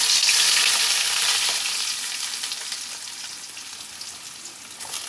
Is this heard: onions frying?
yes